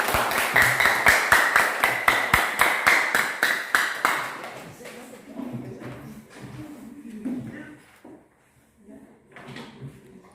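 A classroom group gives a short round of rhythmic hand clapping for a presenting student group, about a dozen even claps over four seconds, then the room settles into scattered shuffling and murmuring voices.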